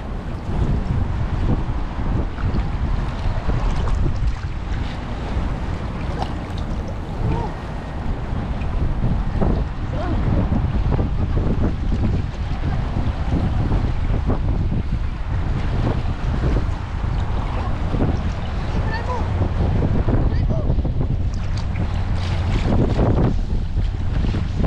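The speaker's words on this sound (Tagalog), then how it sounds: "Pa-high tide na kasi kaya mahangin." Strong wind buffets the microphone on a small fishing boat at sea as the tide rises, a loud continuous roar and rumble with wave wash, steady throughout with no voices standing out.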